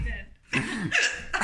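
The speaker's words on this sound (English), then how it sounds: "Oh, you still got the hiccups." A woman hiccups in a few short, sharp bursts indoors, with a brief quiet gap between them.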